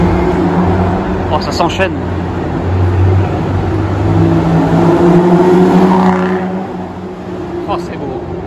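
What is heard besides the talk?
supercar accelerating in Monaco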